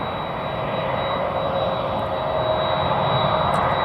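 Jet engines of an Embraer 175 at DFW Airport produce a steady, loud roar with a high whine as the regional jet waits first in line for departure, continuous and with no talk.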